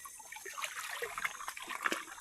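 A river in a forest trickles and babbles faintly over stones, a soft steady flow with small splashes and no talk.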